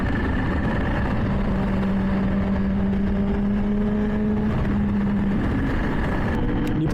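A Kawasaki Z H2 motorcycle engine runs with a loud, steady droning hum whose pitch shifts slightly as it holds, close by and alone, with no voices.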